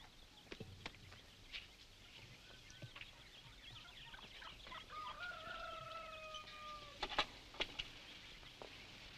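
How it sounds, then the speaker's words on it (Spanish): Chickens on a rural farm cluck and crow at a distance, scattered calls over a quiet background with a cluster of sharper squawks near the end. "Vaya a darle de comer a sus gallinas."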